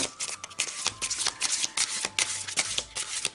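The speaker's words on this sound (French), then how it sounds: "alors ici je vais tirer une carte" A deck of hand-made Black Diamond tarot cards is shuffled steadily and close by, producing a rapid, riffling patter of papery flicks that runs for several seconds without talk.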